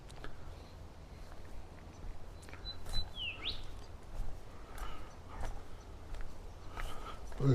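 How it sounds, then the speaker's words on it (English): Small birds chirp and call intermittently in a Tasmanian park with wallabies, with a brief clear tweet mid-way, over steady outdoor ambience and soft footsteps. "Bird song again."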